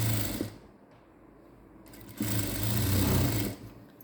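A sewing machine stitches the hook strip of a cross-cut blouse in two short bursts of whirring separated by a brief pause.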